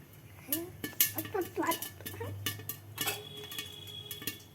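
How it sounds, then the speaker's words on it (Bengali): Corn kernels bursting inside a covered pan, giving scattered sharp pops and knocks against the lid, with a person talking over the first half. "ফাট করে আওয়াজ হচ্ছে, আর পড়বে"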